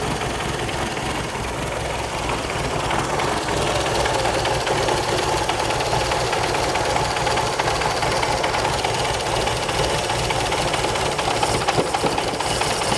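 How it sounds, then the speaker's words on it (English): A barn-find 1980s turbocharged hot hatch idles on gravity-fed fuel, a steady, continuous close engine rumble with a slightly uneven, knocking pulse and no talk over it. "Just try and idle it."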